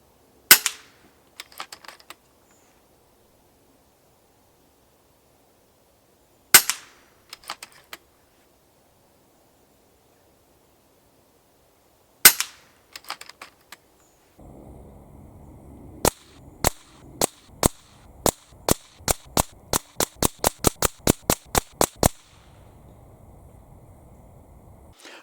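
Sharp, crisp shots from an FX Impact M4 extended .25 calibre air rifle, three spaced reports each trailed by a quick mechanical rattle, then a steady hum under a rapid run of more than a dozen evenly spaced cracks.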